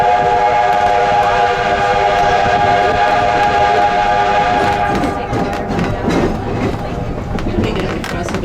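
An 1880 Train in Keystone, South Dakota rumbles along steadily with tonal whistle-like hum and rattling cars, with a voice talking over it in the second half.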